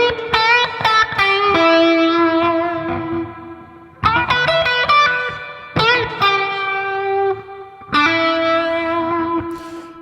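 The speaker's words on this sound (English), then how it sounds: "on lead guitar, back in that time, he used the Fuzz phase distortion" Electric lead guitar played through a Fuzz phase distortion effect, ringing psychedelic rock phrases in four loud bursts, each note sustaining and decaying with reverb before the next attack.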